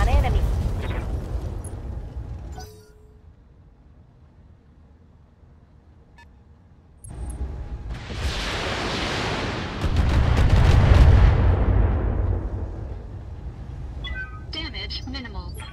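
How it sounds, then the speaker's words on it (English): Mech weapons fire and jump jet thrust in the BattleTech video game: a loud burst of roaring blasts, then a gap, then a long rising rumble of explosions and engine roar that swells and fades. "Fire and jump jets. Firing full complement on enemy."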